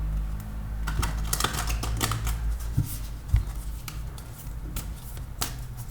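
Tarot cards being gathered and shuffled by hand, a quiet series of soft papery flicks and light clicks in irregular bursts, close and alone with no talk.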